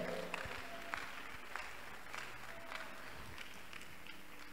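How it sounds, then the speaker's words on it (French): A church congregation applauds during a sermon, a faint, distant, steady patter of many hands with a few sharper claps poking through, lasting the whole moment. "Clap for the Lord."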